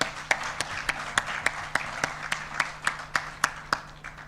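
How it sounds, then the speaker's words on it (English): Slow, evenly spaced handclaps, roughly one every third of a second, ring out over a low steady hum during a public forum meeting in Kenya, with no voices over them. "Let's give Dr. Ogola another round of applause."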